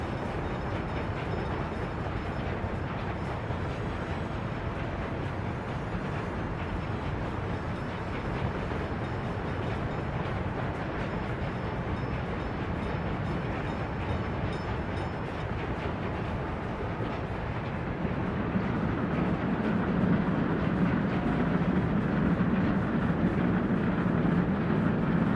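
A train passes in the Workers and Resources city-building video game. Its dense, roaring rumble stays continuous and very loud throughout, swelling heavier and deeper toward the end, with no talking.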